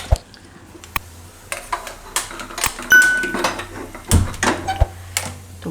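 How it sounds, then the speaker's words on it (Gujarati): A pressure cooker holding raw bananas and a little water is shut, with a series of metallic clanks, taps and scrapes as the lid is fitted and locked, loud and close in a quiet kitchen. "તો કુકરનું ઢાંકણું બંધ કરી દેવું."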